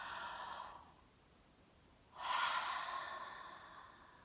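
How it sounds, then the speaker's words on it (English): Two big deep breaths, one long airy exhale that fades, a short pause, then a stronger rushing breath out, close and alone in a quiet room. "let's start with 3 big oxygenating breaths"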